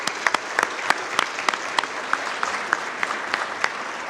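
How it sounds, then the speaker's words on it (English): A crowd at a breast cancer charity kickoff event claps in a lively round of applause, a dense patter of many hands with sharper individual claps standing out, sustained at a steady level. "So let's give them a great round of applause."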